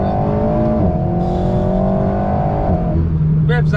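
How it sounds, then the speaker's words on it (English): An Alpine A110S sports car engine revving hard under full acceleration, loud and close, climbing in pitch through gears with brief drops at shifts. "you can hear proper engine sound when you put your foot down"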